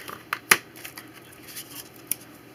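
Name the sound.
scissors cutting out a paper card shape by hand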